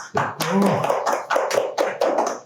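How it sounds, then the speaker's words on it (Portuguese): An audience gives a round of applause for a real estate specialist, a dense run of quick, close hand claps in several bursts lasting a couple of seconds. "Uma salva de palmas."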